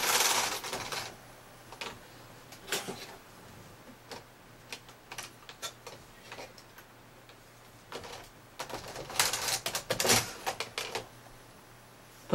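Flat bed knitting machine carriage pushed back across the needle bed while knitting a tube sock, giving a run of quiet clicks and rattling bursts with two louder stretches, near and without talk.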